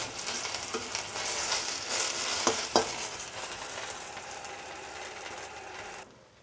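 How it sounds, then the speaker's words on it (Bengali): Store-bought lentil dumplings (bori), washed first, fry in oil in a pan with a continuous sizzle and stirring clicks, fading out at the end. "আমি বড়িগুলি ভেজে নেব"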